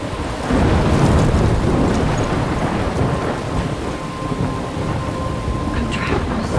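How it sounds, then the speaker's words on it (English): Thunder rumbles through steady heavy rain in the Life is Strange video game, a dense continuous roar of downpour with low rolling thunder, loud and close throughout. "I'm trapped in a storm?"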